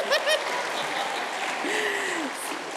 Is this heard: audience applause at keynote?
yes